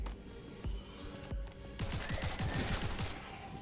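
Automatic weapon fire in a shooter video game comes in rapid bursts, a couple of isolated shots followed by a dense rattling fusillade of sharp reports, loud and close, with no talking.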